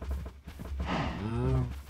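Cattle in the Minecraft video game low with a few drawn-out moos, close and fairly loud over a steady game background, following a few short thumps.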